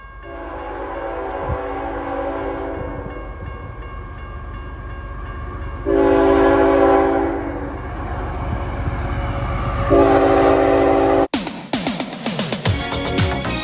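A CN freight train led by locomotives 3015 and 3264 rumbles past close by near Zephyr and Mount Albert, sounding several long horn blasts; the rumble grows louder toward the end.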